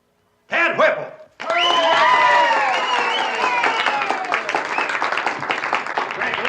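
Studio audience applause at a 1960s small-town talent contest, a loud sustained wash of clapping and cheering that swells after a short burst of voices and carries on under a speaking voice.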